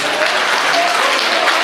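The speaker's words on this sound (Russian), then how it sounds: "бурные аплодисменты." Stormy audience applause at a quiz game event, a loud, even burst of many hands clapping right up close throughout.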